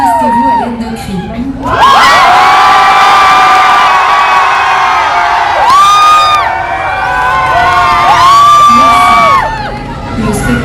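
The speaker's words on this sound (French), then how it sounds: "Manifestez-vous à l'aide de cris." A concert crowd, largely children, cheers, whoops and shouts loudly and continuously for a comedy duo in Perpignan, swelling in waves of high-pitched screams.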